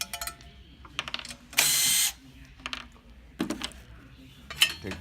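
Ratchet wrench backing out two bolts on the capacitor cover of a GEN2000 generator, giving short bursts of close metallic clicking and rattling with one louder, sustained whir in the middle and scattered tool clatter.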